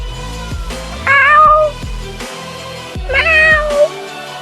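A voice imitates a cat, giving two drawn-out meows with a pause between, loud and close.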